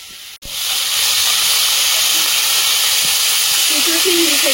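Dried shrimp dropped into a hot pan set off a sudden loud, steady sizzling hiss at close range that keeps going without a break, with a soft clunk just before it begins.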